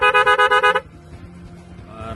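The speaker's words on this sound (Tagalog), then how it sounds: "Loud horn din siya nandito. Loud horn yan." A loud, nasal snail-type horn on a Honda Wave 125S motorcycle blasts in rapid pulsing bursts for under a second, then cuts off, leaving faint background noise.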